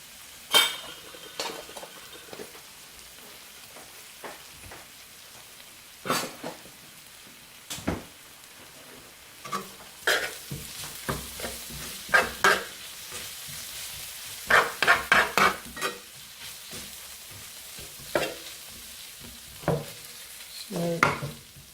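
A small amount of cumin (zira) sizzles in a frying pan for a Bengali bottle gourd and prawn dish, under a quiet fry with repeated scraping stirs and metal utensil clinks against the pan.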